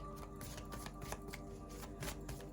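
Tarot cards being shuffled close by, a soft continuous riffling and flapping of the deck with quick rhythmic slaps over a faint background hum, no voice.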